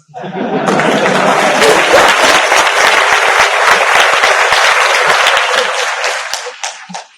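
A large audience at a book launch speech applauds loudly, a dense and continuous burst of clapping that lasts several seconds before tapering off.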